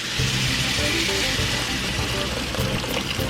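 Two cups of hot water pour steadily into a pot of vegetable soup holding black beans and fresh cilantro, a continuous close splashing rush lasting the whole moment with no talk.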